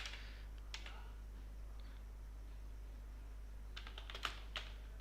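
Fingers type on a computer keyboard, quick faint clusters of key clicks at the start and again near the end over a steady low electrical hum.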